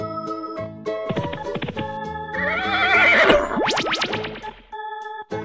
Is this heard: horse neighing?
yes